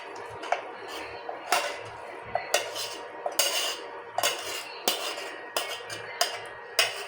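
Cooked noodles being served onto a plate at home, with a run of sharp utensil clinks and scrapes against dishes, close and clear, repeating at irregular intervals with no talk.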